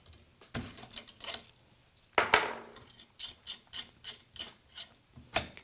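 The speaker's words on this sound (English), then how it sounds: "I'm gonna loosen this up." Clamp on a Varavon Zeus camera cage for a Sony A7S II being loosened, a string of short dry ratcheting clicks in uneven bursts with one louder rasp midway, close up and alone.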